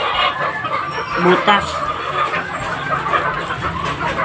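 Chickens cluck and squawk close by inside a coop, busy and continuous, while a person talks over the birds.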